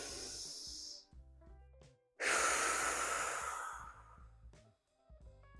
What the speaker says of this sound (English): And again, big deep breath.